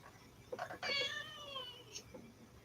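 A heavy domestic cat meows indoors, a short chirp followed by a long drawn-out meow and a softer closing call, close to the listener with quiet room noise around it.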